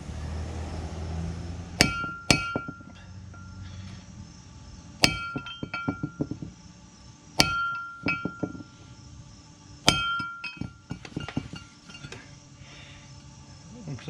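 Several sharp metallic hammer strikes in clusters driving a wheel stud into a Buick Skylark hub, ringing with a bright clang, separated by pauses with quiet background noise.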